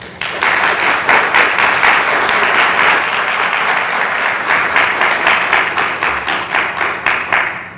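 A book-event audience gives a loud, sustained burst of applause welcoming author Georgia Hunter, dense clapping that holds steady for several seconds before trailing off at the end.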